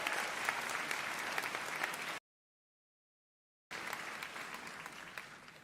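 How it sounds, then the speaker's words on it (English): A graduation hooding ceremony crowd gives a round of applause, a dense steady clapping that cuts to complete silence for over a second midway, then resumes just as full. "Let's give them a great big round of applause."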